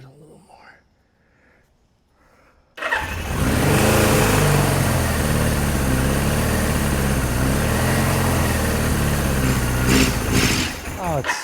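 A Suzuki GS750 motorcycle engine, struggling for fuel off choke, catches after a quiet start and runs loud and steady with a rough, uneven idle and slight revving for about nine seconds before dropping back near the end.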